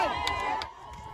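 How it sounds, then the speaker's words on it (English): Families at the Highland Park public pool in Pittsburgh cheer on a young child during his first deep water swim test, a faint, distant crowd of voices and shouts echoing briefly. "Families cheering on as a young child takes his very first deep water test."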